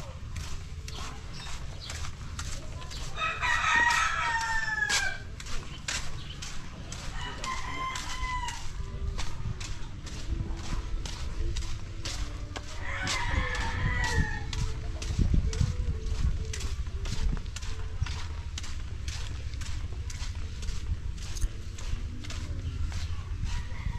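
A rooster crows several times, drawn-out calls rising over a steady outdoor background with scattered clicks and low rumble; no one speaks.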